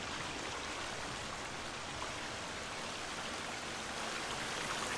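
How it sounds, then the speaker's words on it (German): A waterfall in the survival video game The Forest gives a steady, loud rush of water that fills the whole stretch evenly, with no talking over it. "Wasserfall."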